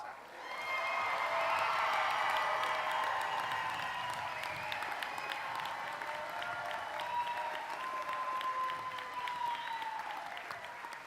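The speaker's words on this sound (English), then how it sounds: "Let's give our graduates one round of applause" Sustained applause from a large audience at a college commencement ceremony, rising quickly and clapping steadily for about ten seconds before tapering slightly.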